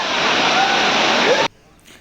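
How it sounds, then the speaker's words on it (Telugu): Gandahati waterfall rushing loudly and steadily as a broad, close roar that cuts off abruptly partway through, leaving near silence. "వెనకతల బ్యాక్గ్రౌండ్లో వాటర్ ఫాల్ బాగుంది కదా"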